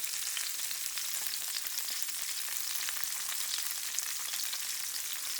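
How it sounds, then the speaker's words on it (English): Halved garlic bulb charring cut-side down in a hot cast iron skillet, a steady, even hiss and crackle of sizzling with no talking. "put it in the cast iron skillet to get a little char on it"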